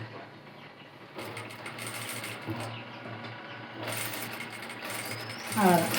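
Sewing machine stitching a neckline on a garment at a tailoring lesson, a steady close mechanical whirring with short pauses and clicks, and a brief squeak near the end.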